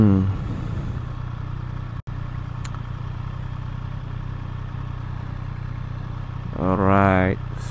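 A Triumph Street Triple 765R motorcycle engine hums steadily beneath wind noise while riding, with a brief rise in engine revs near the end, heard under the rider's talking.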